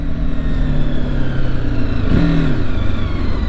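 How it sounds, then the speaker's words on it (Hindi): A TVS Apache RTR 310 motorcycle engine revving steadily on the throttle, loud and close, with a continuous drone and a brief rise in pitch midway. "जब मैं थ्रॉटल पुल करता हूँ तो मोटरसाइकिल बहुत क्लीनली पुल हो जाती है"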